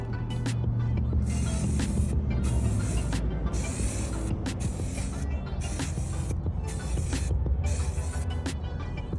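Spray paint hissing from a nozzle onto a Halo Reach sniper rifle prop, coming in repeated steady bursts separated by brief pauses, close and fairly loud.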